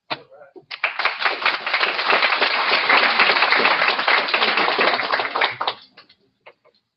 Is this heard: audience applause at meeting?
yes